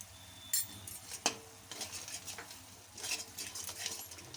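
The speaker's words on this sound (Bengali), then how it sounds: "আমি আবার নাড়াচাড়া করে নিচ্ছি" A spoon stirs masala with cumin powder in a pan while cooking Bengali cholar dal with yogurt, giving soft scraping and clinking taps over a faint sizzle, close and quiet.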